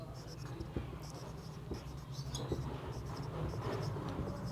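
A pen or pencil scratches on paper as sums are written out during a Class 10 maths lesson, soft, steady strokes close by with some low background hum.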